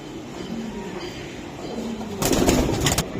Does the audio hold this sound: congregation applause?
no